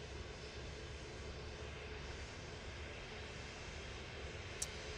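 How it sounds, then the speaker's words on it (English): A Loganair airplane arriving at Manchester Airport gives a steady, broad engine roar that holds constant throughout, heard from a distance without talk. "Logan Air arriving."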